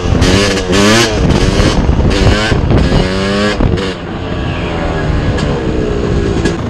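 A Yamaha YZ 250 two-stroke motorcycle accelerating hard through its gears, the loud engine whine climbing in pitch, dropping at each shift and rising again, close and continuous.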